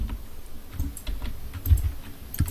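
Someone types on a computer keyboard in quick, uneven bursts of clicky keystrokes, fairly close, with some low thumps in between and no speech.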